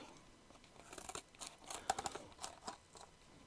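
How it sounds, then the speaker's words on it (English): Kitchen shears snip through material while making a spoon face doll, a series of sharp, close cutting crunches in an irregular rhythm with no talking. "we also used the kitchen shears as well. So you cut this out"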